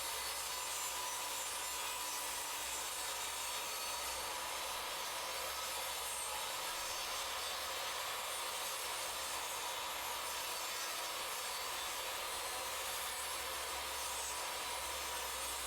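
A wooden desk board being trimmed to 24 inches, a continuous rough, rasping cut that holds steady and loud for the whole stretch with no pauses or voices.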